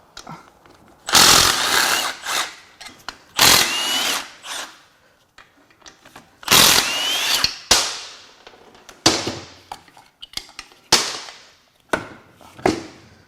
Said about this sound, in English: Let's keep zipping some bolts out and hopefully more parts will fall off.